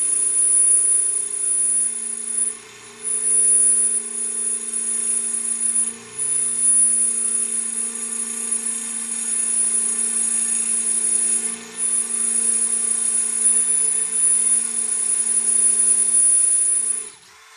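A steady, high-pitched whine of a power drill running a drill bit that is burning during a bench test, continuously, with a few brief dips in speed, close and loud throughout.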